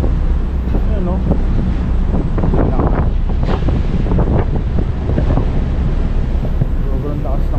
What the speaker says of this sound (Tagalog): Sobrang lakas ng alon talaga.